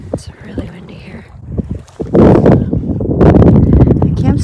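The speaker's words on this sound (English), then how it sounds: "It's really windy here." Strong wind gusts buffet the microphone on a rocky lakeshore at a Crown Land canoe campsite, rushing loudly and unevenly, with someone speaking briefly over the blustery roar.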